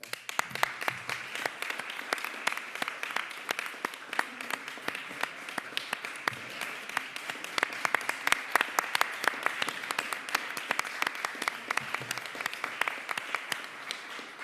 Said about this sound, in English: You have to come up so we can applaud you.